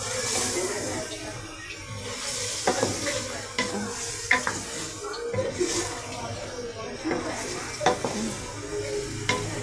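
Chicken and potatoes are stirred and frying in a pot, giving a steady sizzle with scraping strokes and occasional clanks of the spoon against the pot throughout.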